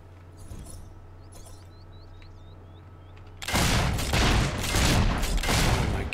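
Gunfire in the video game Fable 3 while fighting Balverines: after a quiet stretch, a loud, dense burst of rapid shots begins midway and runs continuously to the end.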